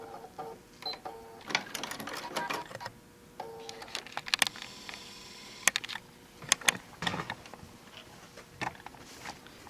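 A domestic sewing machine locks a stitch on a quilt-as-you-go tote bag in short stop-start bursts, with clicks and pauses between the quick runs.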